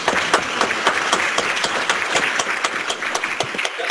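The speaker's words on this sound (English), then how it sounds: "give these guys a round of applause." An audience at a church ministers conference in the Philippines claps for a group of guests, sharp individual claps standing out in a fairly sparse, uneven rhythm that holds steady throughout.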